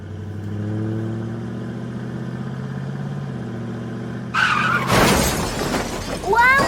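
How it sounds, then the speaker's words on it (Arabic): A car smashes its front end in a garage, with a loud crash and bursts of shattering glass after a steady engine hum, debris rattling afterward. "فرشختي مقدمة السيارة."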